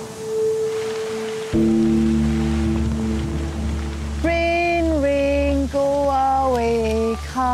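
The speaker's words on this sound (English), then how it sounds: "I just got changed and now it's raining." Tropical rain falling on a remote island on a survival show, a steady hiss that runs under the whole stretch. Close voices talk and exclaim over it during the second half.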